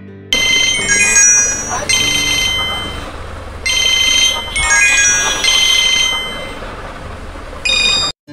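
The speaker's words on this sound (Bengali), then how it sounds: "রিংটোনে একেবারে আহামরি সাউন্ড না পেলেও কাজ চালিয়ে নেওয়ার মতো সাউন্ড ছিল।" An itel keypad button phone plays its ringtone loudly and close by, a bright electronic melody repeating in several bursts separated by short pauses, with no one talking.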